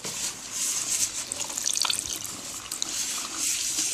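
Water runs steadily from a tap while a wig is rinsed, a continuous close hiss and splash with small shifts as hands move through the hair.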